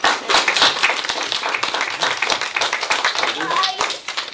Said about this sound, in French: Alors on va les applaudir, les enfants de maternelle, non?